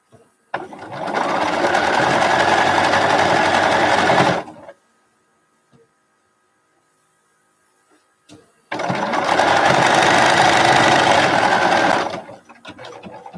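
A sewing machine stitches quilt pieces together with nested seams, running in two steady, close bursts of about four seconds each, separated by a quiet pause.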